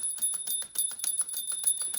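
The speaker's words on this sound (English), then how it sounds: "He actually rings the bell." Vintage mechanical wind-up Santa Claus toy ringing its small bell, a fast, even run of bright metallic dings with clicking mechanism, close up and alone.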